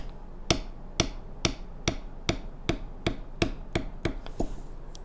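A metal beveling tool is struck repeatedly by a mallet while beveling leather: about ten sharp, close, evenly spaced knocks, each with a brief ringing decay, over a faint background hum.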